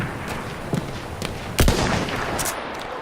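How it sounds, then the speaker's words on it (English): Battlefield 1 gameplay with distant gunfire: scattered sharp shots and cracks, with one louder burst midway followed by a sustained rumble. "Enemy machine gun over there."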